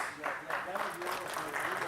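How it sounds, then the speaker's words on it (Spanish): Crowd clapping at a horse auction after a lot is sold, brief and fairly soft, mixed with faint voices and room noise. "Fuerte el aplauso, señores."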